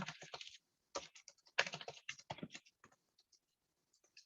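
Computer keyboard typing in irregular bursts of quick, close key clicks, clustered early and thinning to sparse single taps toward the end, with no voices.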